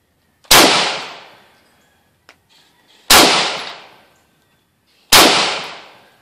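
Three loud, close rifle shots from an IWI Tavor fitted with a Tav-D trigger, fired outdoors at targets. Each sharp crack rings out with a long decaying echo, spaced a few seconds apart, and there is a faint click between the first two.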